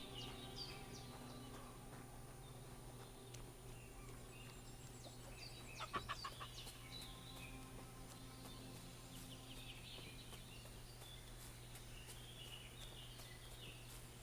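Chickens cluck softly around a farmyard trough in Kingdom Come: Deliverance II, set against steady outdoor ambience with faint birdsong and a brief clatter midway.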